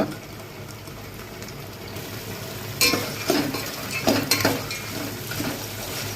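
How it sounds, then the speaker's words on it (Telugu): Dry red chillies, cumin, cashews and asafoetida fry in hot oil for temple-style pongal, a steady close sizzle broken by several sharp stirring scrapes and clinks of a spoon against the pan. "మొత్తం అన్నీ కూడా శుభ్రంగా ఫ్రై చేసుకోండి"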